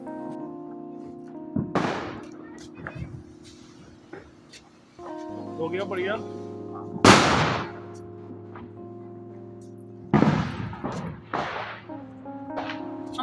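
Diwali firecrackers set off outside a house, several sharp loud bangs and crackling bursts spaced a few seconds apart, with people talking and a steady tone underneath.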